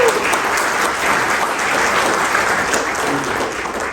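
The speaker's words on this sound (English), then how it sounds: "Can we hear another hand of applause for you?" Audience applause at a freight company's 20th anniversary celebration, loud continuous clapping filling the hall from start to finish.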